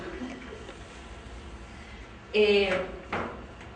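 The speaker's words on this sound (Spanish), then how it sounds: "Me voy a cambiar de silla porque estoy agarrado." A chair scrapes and knocks as it is shifted when someone changes seats during an indoor discussion, one loud scuffing burst followed by a shorter bump, nearby against quiet room tone.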